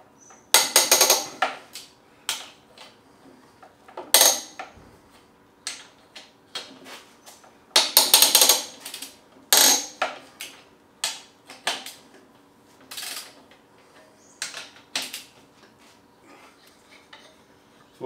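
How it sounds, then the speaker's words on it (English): Cylinder head bolts on a Yamaha XV1000 Midnight Special engine are loosened a little at a time, heard as sharp, close metallic clicks and clinks of tools and bolts in irregular clusters, with quiet pauses between. "Next we undo the 4-cylinder head bolts. Just a little bit at a time."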